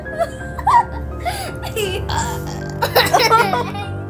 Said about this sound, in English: Did you just burp inside your mouth?